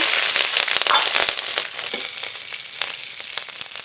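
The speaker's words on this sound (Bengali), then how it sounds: "রসুনটা একটু ভেজে নেব" Whole garlic cloves and slit green chillies frying in very hot mustard oil, a loud, dense sizzle with rapid crackles and spits, strongest at first and easing slightly, with no talking.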